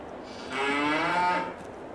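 A Guernsey cow lets out a single long, close moo lasting about a second, rising out of quiet farm background noise with no talking.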